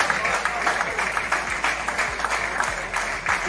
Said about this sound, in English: The whole room applauding.